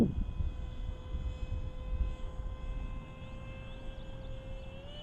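An E-Flite Spitfire RC model plane flies past with a steady electric motor whine and prop drone, loud at first then easing slightly as it moves on, with a rising pitch near the end.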